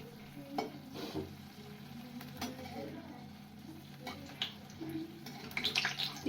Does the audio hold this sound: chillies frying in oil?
yes